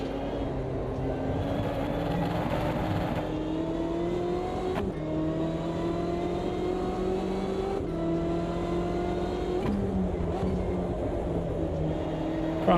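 A BMW race car engine in Automobilista 2 climbs steadily in pitch through each gear, with three quick shift breaks, a loud continuous drone heard alone.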